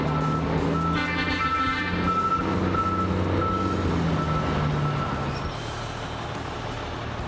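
An industrial forklift moving a heavy steel coil sounds regular reversing beeps, a steady repeating tone over loud engine rumble and factory noise, fading toward the end.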